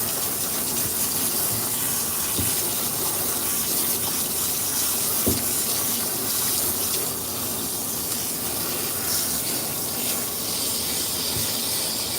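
Steady stream of water from a grooming tub nozzle rinsing out the Groomer Scoop during a cat bath, a continuous close hiss with faint splashes and no talking.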